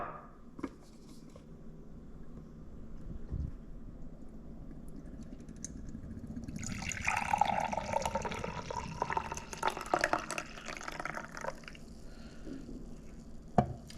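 Brewed coffee being strained through a strainer, with a soft wet trickle and squishy splashing that swells about halfway through and continues unevenly to the end, close by, with no talking.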